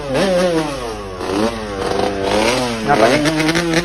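A motorcycle engine revs repeatedly, its pitch climbing and falling in a continuous loud run of throttle blips, with a few faint voices underneath.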